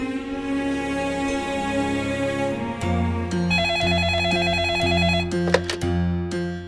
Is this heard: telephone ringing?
yes